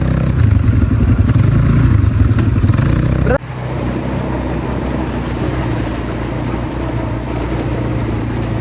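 A motorcycle engine runs loudly nearby, idling with a steady throb and rattle, its tone dropping abruptly partway through.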